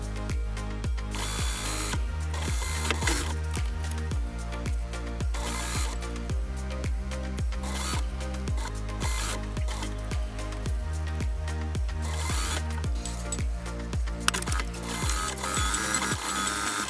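A sewing machine stitches fabric for a sling bag for cats and small pets, giving a steady, close, rhythmic mechanical whirr with clicking needle strokes that runs without pause and with no talking.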